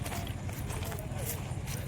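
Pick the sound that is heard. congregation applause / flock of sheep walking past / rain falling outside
flock of sheep walking past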